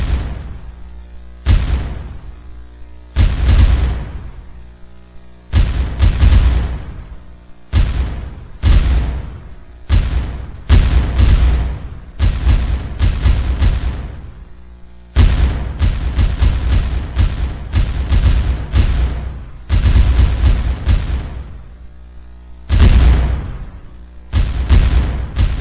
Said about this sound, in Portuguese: ocorreu o primeiro combate com tiros de canhão